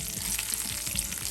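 Frozen curry leaves crackle and sizzle steadily in hot oil in a pan, a close, even frying hiss with small pops, prepared for a lobster pepper roast.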